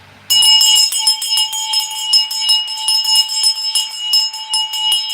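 Small handbell shaken by hand at an outdoor lighting ceremony in Florence, ringing continuously with bright, rapid repeated strikes and a sustained metallic tone after a brief quiet start.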